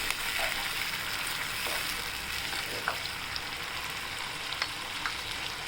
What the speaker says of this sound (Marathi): त्याच्यात आपण मुगाची डाळ टाकूया आणि ही चण्याची डाळ टाकूया आणि परतून घेऊ आपण